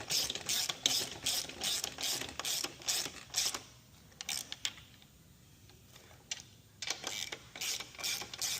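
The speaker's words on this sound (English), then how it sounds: "So I'm going to get my ratchet here with my 10 and my 19. I'm going to tighten these guys" A hand ratchet tightens bolts on a skid pan being fitted to a 2026 KTM 690 Enduro, with steady rapid clicking strokes, a brief pause mid-way, then more quick ratcheting, close and clear.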